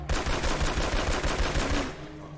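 Rapid gunfire from a shooter game about hunting down Freeman amid zombies: a dense, loud run of overlapping shots and bursts that continues for about two seconds, then cuts off sharply.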